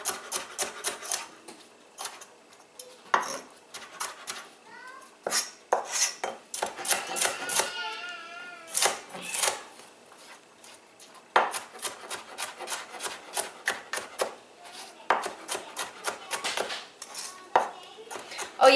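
A knife working through an onion on a board while preparing vegetables for fried rice, with repeated close cuts and rasping strokes plus clinks of kitchen utensils, in irregular bursts across the whole stretch.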